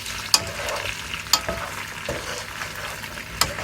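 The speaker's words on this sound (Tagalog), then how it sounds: "Tapos yung haluin lang natin siya habang habang tinutunaw ang butter" Potato and bacon stirred in a pan as butter melts, giving a steady frying sizzle broken by a few sharp scrapes and clinks of the utensil against the pan, close and alone.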